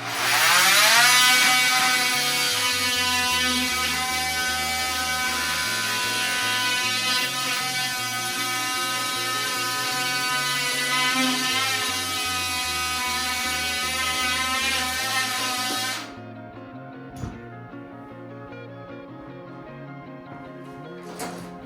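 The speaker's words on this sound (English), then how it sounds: "get an oscillating tool" An oscillating multi-tool buzzes loudly and steadily, its pitch wavering as the blade works into drywall to cut an outlet opening, then it stops abruptly and a few quiet handling clicks and taps follow.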